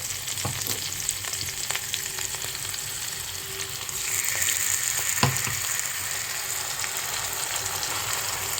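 Poppy seeds tipped into a pan of frying vegetable stems set off a steady, close sizzle of hot oil that runs the whole time, with a few faint clicks and stirring scrapes and no voices.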